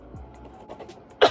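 A single sharp cough bursts out near the end, close and loud, after a stretch of quiet low murmuring.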